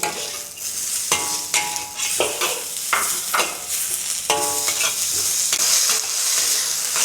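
Mushroom, carrot and celery sautéed over medium-high heat in a wok, with a loud steady sizzle broken by repeated clattering spatula strokes and scrapes against the metal.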